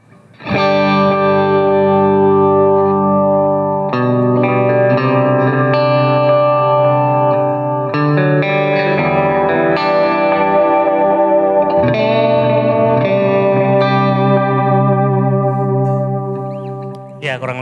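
Electric guitar with a Valeton multi-effects unit, lightly driven and washed in delay and reverb, rings out in sustained, layered chords that swell and decay continuously, loud and alone without talk.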